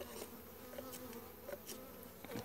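Honeybees buzz in a weak beehive, a steady close droning hum with individual bees flitting past, no voices.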